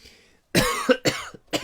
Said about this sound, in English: I've got a few coughs to cough out, obviously.